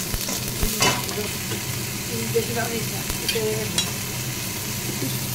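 Kashmiri chili powder and spices stirred in a sizzling pan while cooking a Bengali catla fish dish, a steady fry hiss with scraping stir strokes and utensil clinks, fairly close, with faint talk in the background.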